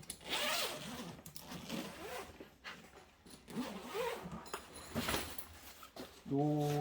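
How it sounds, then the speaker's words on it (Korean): Zipper pulled along a soft fabric case for a Legend Everest 44 compound bow, the case lined with stiff plastic; rasping zip strokes repeat through the clip, close and fairly loud, with someone talking over parts of it. "이쪽에 지퍼가 있더라고요."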